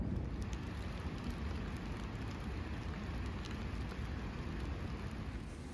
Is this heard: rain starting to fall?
yes